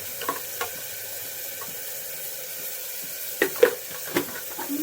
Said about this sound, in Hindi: तो फिर मेरी सब्जी में तड़का लग चुका है यार